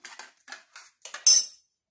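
A milk and orange juice dessert mixture stirred with a spoon in a pot, short scraping strokes repeated in a quick rhythm, ending in a brighter clink, close and clear.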